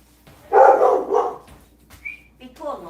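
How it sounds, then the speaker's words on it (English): A dog barks nearby in a short run of loud, close barks, followed by softer yips and whines, with a person speaking briefly over it. "Be good neighbors and don't bark."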